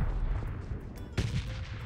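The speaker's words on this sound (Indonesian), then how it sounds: "Itu ada suara tembakan." Gunshots in the mobile battle royale game PUBG Mobile on the Sanhok map, a sharp crack near the middle standing out over a rumbling, busy game background with a few softer shots around it.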